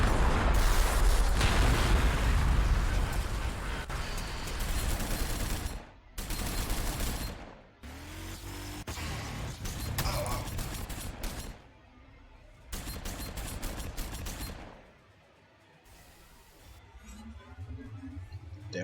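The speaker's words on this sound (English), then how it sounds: "Damn artillery." Artillery fire in Warhammer 40,000: Sanctus Reach, a Space Wolves campaign battle, with heavy booming blasts and rolling gunfire in long dense waves, broken by short lulls between salvos.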